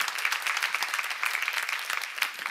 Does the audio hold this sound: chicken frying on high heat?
no